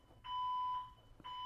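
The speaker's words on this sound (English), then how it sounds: "That's a fire alarm." A fire alarm sounds twice, each a steady, piercing electronic tone lasting about half a second, the second starting near the end of a short gap; no talking during it.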